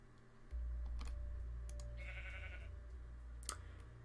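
Sheep bleating in Minecraft as one is struck, a short synthetic bleat over a steady low game hum, with keyboard-like clicks and a sharp tap near the end.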